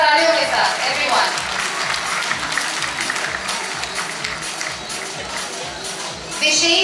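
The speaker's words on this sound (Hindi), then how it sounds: "जोरदार तालियों के साथ एवरीवन" A large audience applauds loudly at an awards ceremony, a dense, sustained roar of many hands that continues for several seconds.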